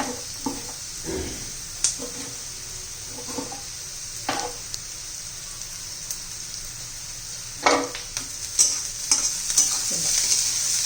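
Stale bhakri chivda with onion, carrot and other vegetables sizzles steadily in a pan while a spoon scrapes and stirs, with sharper stirring clatters bunching near the end.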